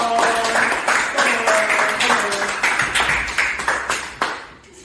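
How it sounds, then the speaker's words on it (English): An audience claps for a bold young woman at a storytelling event on cultural heritage, a loud, dense burst of applause that fades over several seconds, with a faint voice and a brief tonal ringing beneath. "Please, can you clap for that bold young woman?"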